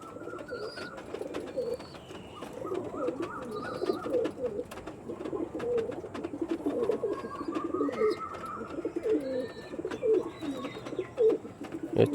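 Andhra tournament pigeons cooing steadily throughout, several soft overlapping coos in a low repeating rhythm, with faint chirps and background ambience, no talk.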